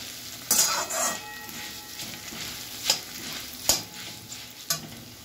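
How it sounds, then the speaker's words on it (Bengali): Flattened rice (chira) fries in a pan with dried red chilli over a low flame, sizzling steadily while a spatula stirs it in a few distinct, close scraping strokes. "একটু করে দেব আর একটু করে এভাবে নাড়িয়ে দেব।"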